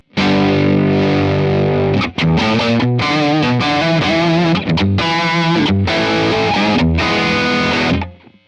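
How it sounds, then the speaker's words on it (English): A heavily distorted electric guitar through a Strymon Iridium amp pedal with extra analog front-end gain plays loud, sustained chords and riffs with thick saturated tone, several brief gaps between phrases, ending abruptly. "we'll hear the inclusion of this extra gain coming in from the analog front end"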